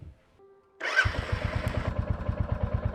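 A motorcycle engine starts after a brief electric starter whine, catching with a burst and settling into a close, steady, rhythmic idle thump, with no talk over it.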